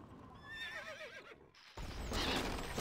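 A horse in the strategy game Stronghold: Crusader gives a wavering high whinny, followed by a louder burst of battle noise and hoofbeats.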